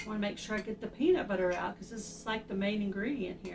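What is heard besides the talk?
No everyday noises stand out.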